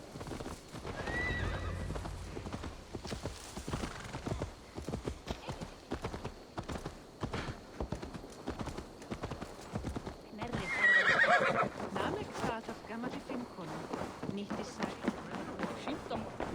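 Horse hooves clip-clop in Assassin's Creed Valhalla, with a neigh partway through, under faint game voices that speak intermittently.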